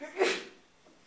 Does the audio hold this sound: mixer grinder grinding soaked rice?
no